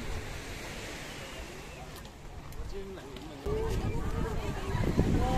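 Ocean surf washes in a steady roar under wind at a beach on Cheung Chau Island, Hong Kong, growing louder near the end as a wave breaks closer; a voice is faintly heard.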